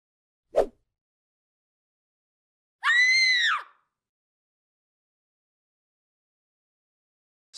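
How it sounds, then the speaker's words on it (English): A single person screams once, a short, loud, piercing cry of under a second, set between long stretches of silence, with a brief soft sound just before it. "Scream."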